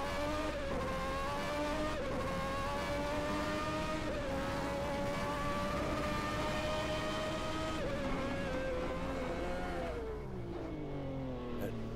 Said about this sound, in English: Ferrari engine sounds amazing.